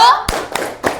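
A primary school class claps the tepuk konsentrasi rhythm, three sharp, loud group claps spaced evenly over about a second, with children's voices and a lingering tone at the start.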